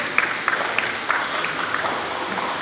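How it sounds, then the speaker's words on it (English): A rally crowd protesting indefinite detention of refugees and ASIO checks gives a short round of applause, a soft, even patter of many hands clapping at a moderate distance. "Kilia from Victorian Trades Hall Council, so let's give her a round of applause."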